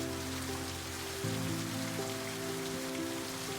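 Steady rain pours onto the roof of a French château during a storm with wind, a dense continuous hiss with a low tonal hum layered underneath.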